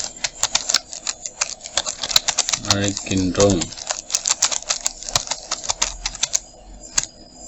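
Keystrokes on a desktop computer keyboard, rapid irregular clicks and taps close by, with a person speaking over part of the typing.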